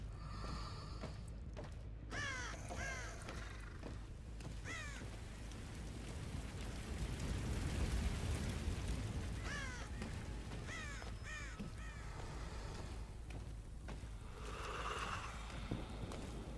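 Crows cawing in the Dead by Daylight game, several hoarse calls in short bursts scattered over a dark rumbling ambient drone, with some calls nearer and others further off.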